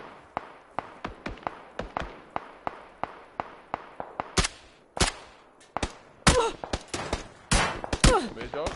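Bursts of gunfire crack out repeatedly in quick single shots and short volleys, with a few louder sharp blasts near the end.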